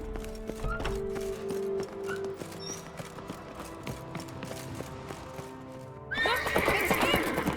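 Hooves clip-clop rapidly in a steady gallop while a horse whinnies in the video game The Witcher 3, with music underneath and a sudden louder rush near the end.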